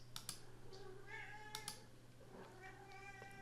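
A bored cat meows several times in a quiet room, its faint rising and falling cries heard near the microphone over soft computer keyboard typing and clicks.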